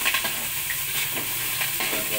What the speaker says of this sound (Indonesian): Kita goreng rata.